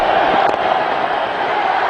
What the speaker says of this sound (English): Disappointment all over Ridley Jacobs, but elation all over the crowd